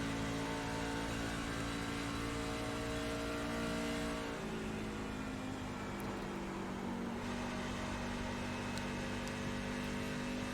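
NASCAR Truck Series race trucks in the iRacing sim at Pocono: a loud, sustained engine drone holding a steady pitch, dropping into a lower gear partway through before settling again, continuous with no talk.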